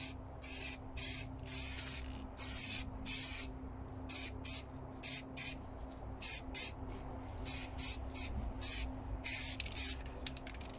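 Repeated short bursts of spray paint hiss as a quick first coat goes onto a model Volvo RC truck part, the aerosol firing in quick on-off pulses over a steady low background hum.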